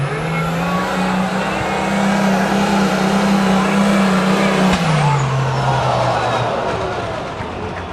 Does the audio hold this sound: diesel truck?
yes